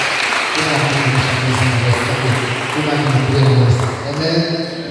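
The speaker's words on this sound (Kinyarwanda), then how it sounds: "Twegereje Bishop wacu akamukomera amashyi cyane mu izina rya Yesu" A church congregation at an Easter service claps loudly for their bishop, a thick continuous wash of applause beneath a voice speaking over it throughout.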